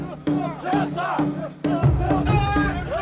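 Loud, energetic crowd shouting at the Yokote Bonden Parade, a snow-country shrine festival where ornate Bonden poles are carried, with rhythmic massed chanting and cries close by throughout.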